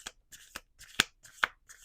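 Tarot cards being shuffled by hand, a run of short riffling bursts about every quarter to half second, close and crisp, with brief pauses between them and no talking.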